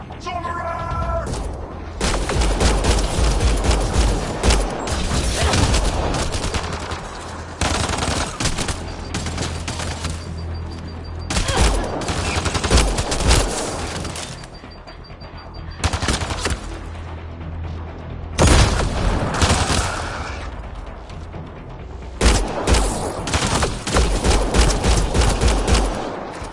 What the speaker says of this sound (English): Naya, shoot it!